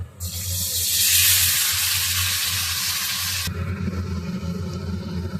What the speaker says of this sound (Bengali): এখানে আমি মশলাটা একটু কষতে দিলাম